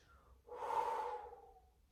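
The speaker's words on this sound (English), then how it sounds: "Always breathing in through the nose, out through the mouth." A single slow breath drawn in through the nose and let out through the mouth during a bed stretching routine, soft and close, rising and fading over about a second with no talk.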